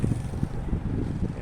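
Cool fresh wind in a cornfield buffets the microphone in low, gusty rumbles for a brief moment, close and fairly loud with no talk.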